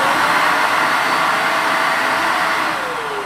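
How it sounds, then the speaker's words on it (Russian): A Deerma T30W vacuum station empties the dustbin during its self-cleaning cycle with a loud, steady suction roar that holds for several seconds, then its motor pitch begins to fall as it winds down, with no talk. "Цикл самоочистки занимает 20 секунд. Уровень шума достигает 78 дБ."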